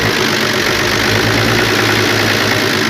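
An FNM 180 truck's engine idles after sitting parked for three years, a steady loud low rumble with a continuous mechanical drone running evenly throughout.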